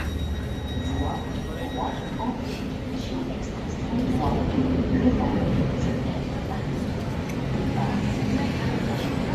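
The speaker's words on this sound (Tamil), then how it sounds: "நான் போகிற இடத்துக்கு ட்ரெயின் வந்து கொண்டு இருக்குது" A Goldenpass Express train in Switzerland rumbles into a station, steady and low, with faint wheel squeal, growing slightly louder partway through.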